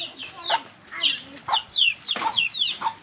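Caged pet chickens cluck in short, repeated bursts close by, a rapid run of calls with brief pauses between them.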